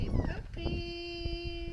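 Young Dalmatian puppies whimper and yip outdoors on their first time outside, high thin cries from close by, mixed with a person's voice calling softly.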